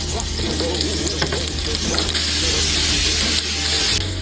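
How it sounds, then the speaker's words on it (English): Beef sears in a hot pan with a strong, even sizzle and spatter, close and continuous, with a low steady hum underneath and no speech. "Hear that sizzle?"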